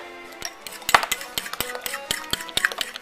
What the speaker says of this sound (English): So now the eggs are whisked